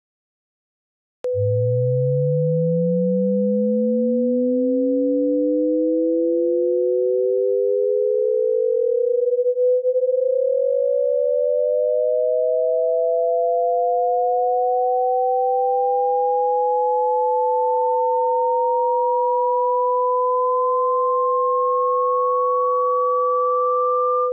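Two pure sine tones play together, one held steady while the other glides slowly upward past it, producing faint extra beating difference tones, including a descending cubic difference tone.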